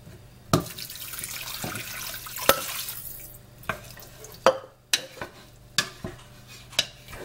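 Water runs from a tap over lentils in a pot for lentil soup, a steady pour for several seconds followed by a series of sharp clinks and knocks of kitchenware, with no talk.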